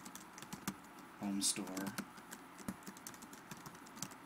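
Quick, light clicks of typing on a computer keyboard tap along irregularly, softly, beneath a voice talking.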